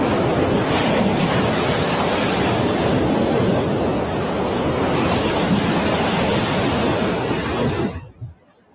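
Floodwater after heavy rainfall in Accra, Ghana, roars as a loud, steady broadband rush that fills nearly the whole stretch, then cuts off abruptly near the end.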